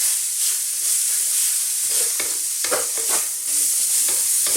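Bacon and peas fry loudly in a pan over medium-high heat, with a constant sizzle broken by irregular scraping strokes as the mix is stirred and turned.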